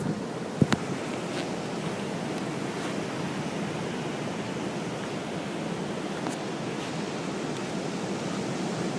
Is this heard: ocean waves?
yes